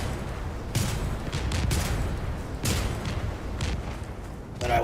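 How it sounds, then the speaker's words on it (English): Rapid-fire bursts of gunshots from a character's special ability in a video game, dense and loud with crackling volleys that rise and fall steadily throughout, near and continuous, with no talking. "I push her V button. Just infinite bullets!"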